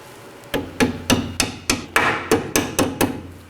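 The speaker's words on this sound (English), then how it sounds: "And tap it in with the hammer." About ten sharp metallic hammer taps in a steady, even rhythm, close and clear, striking a small rear brake hose clamp on a 2013-2019 Nissan Sentra, with no talking.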